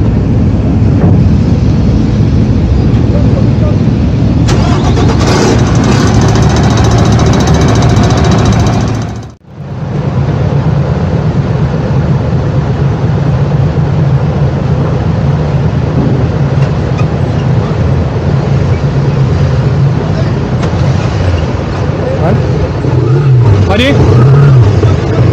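A truck engine runs close by, a steady low rumble that holds for most of the stretch with a brief dropout partway through, while people talk over it.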